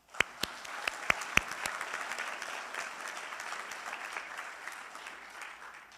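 Applause at a medical school white coat ceremony welcomes the 2025 entering classes. A few sharp, close claps open it, then a large audience fills in with a sustained, even roar of clapping.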